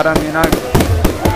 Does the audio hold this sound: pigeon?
no